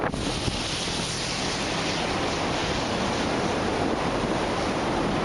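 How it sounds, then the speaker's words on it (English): A loud, continuous roar of the EF5 Joplin tornado, a dense rumbling rush of wind that never lets up, filling the whole sound. "That's a tornado."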